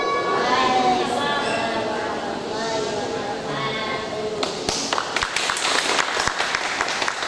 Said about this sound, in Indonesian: berikan tepuk tangannya sekali lagi